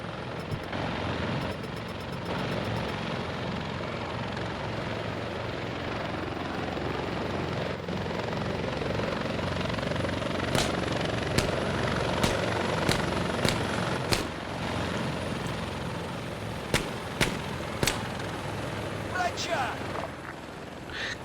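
Helicopter in the Arma 3 video game, a loud continuous rotor drone with a series of sharp impacts or shots popping over it in the second half, and someone talking at times.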